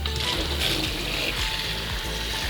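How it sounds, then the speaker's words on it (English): Cooked yakisoba noodles are rinsed in a strainer under running tap water, a close, steady splashing rush with small gurgles and trickles throughout. "cool them down under running tap water like this"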